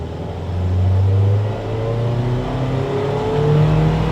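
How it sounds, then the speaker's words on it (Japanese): A Toyota TownAce-based camper van pulls away hard from a traffic light up to 40 km/h, its engine note loud and close, rising through the gears with a dip at a shift partway through. "今信号先頭になったんでちょっと強めに40キロまで加速してみます"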